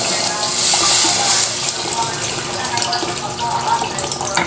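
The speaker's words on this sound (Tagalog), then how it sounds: "Ayan guys, ilagay ko na yung tubig." Water poured into a cooking pot for Filipino sotanghon noodle soup, a steady continuous splashing gush close by that runs throughout without pause.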